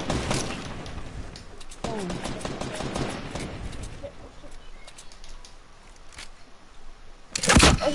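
Sharp bursts of gunfire in Fortnite crack out in rapid clusters near the start and again loudly at the end, while players talk throughout.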